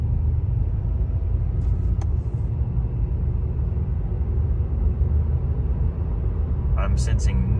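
Steady low road rumble and engine drone from inside a 2010 Acura TSX driving along after a transmission fluid and filter change, continuous throughout with a couple of faint brief clicks.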